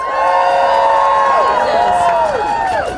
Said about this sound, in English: Let's give us all a round of applause.